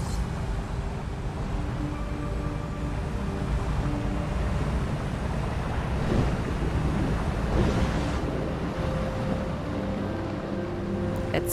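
Ocean waves in the underwater video game ABZÛ, a continuous soft surf wash with rolling swells, steady and moderately quiet, heard alone.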